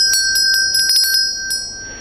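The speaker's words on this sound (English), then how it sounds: "When you start the bell, you can use the whole wrist." A small hand bell used in dharma practice is rung in quick, uneven strokes, each stroke striking bright metallic tones that ring on in sustained overtones and fade after the last strike, close and loud with no talk.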